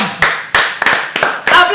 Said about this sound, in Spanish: ¡Aplauso cerrado!